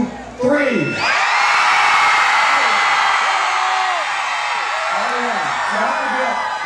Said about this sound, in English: we want you to scream as loud as you can